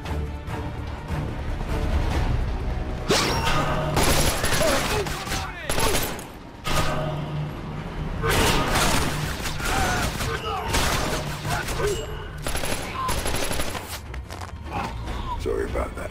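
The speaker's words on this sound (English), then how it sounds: "Taking up gunfire!" Rapid bursts of gunfire from Splinter Cell: Conviction crackle repeatedly over a dense background, with voices talking throughout.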